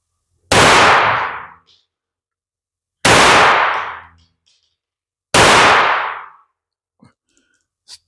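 Three loud, sharp gunshots from a finicky firearm firing CCI Uppercut, Magtech and CCI Clean ammunition, each followed by a ringing echo tail, spaced about two and a half seconds apart, with faint clinks after the last.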